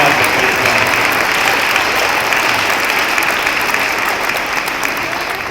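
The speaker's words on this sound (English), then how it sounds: "Let's give these young people one more round of applause." An elementary school audience at a D.A.R.E. event gives fifth grade students a sustained round of applause, dense steady clapping filling the room at close range from start to finish.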